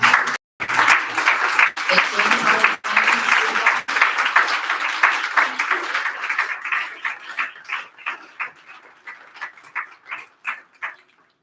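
A one-year anniversary gathering gives the GGSF team a round of applause, dense and loud at first, then thinning into scattered individual claps that fade out; an animal-like whimper or voice may sit briefly underneath.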